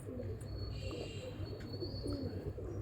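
Old Jonsiry pigeons once kept by Ustad Shuja Butt cooing softly nearby, a low continuous burbling coo with faint background hiss.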